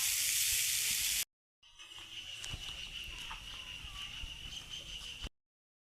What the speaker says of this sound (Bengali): কাকি বড়া ভাজতেছে